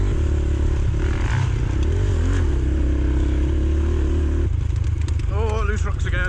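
A dirt bike picks its way over loose rocks on a Welsh mountain trail, its engine droning steadily while clatter and scraping rise toward the end.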